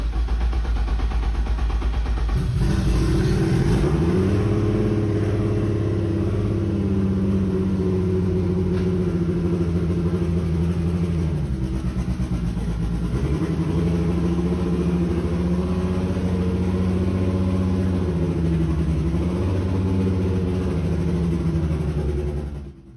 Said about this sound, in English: Backing this car out of the shop is the first time it has ever moved under its own power